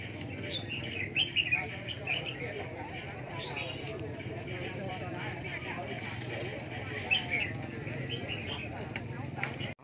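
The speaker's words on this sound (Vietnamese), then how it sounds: "Hót vừa búng cánh ở mâm đấy nhỉ." Caged songbirds at an outdoor bird market give brief high chirps and trills, scattered and fairly faint, under steady chatter from people talking nearby.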